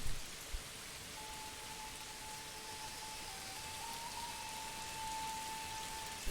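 Steady rain hisses in the medieval city builder Manor Lords, an even, continuous wash of falling drops with a faint tone running beneath it and no voices.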